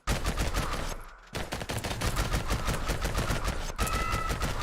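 Dense, continuous enemy gunfire in the action game Vampire Hunters, rapid overlapping shots firing nearly nonstop, loud and close, with one brief pause near the start and no talking.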